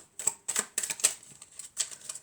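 Oracle cards being shuffled by hand in a series of quick papery riffles and slaps, close and fairly quiet, arriving in short bursts with brief pauses between them and no talking.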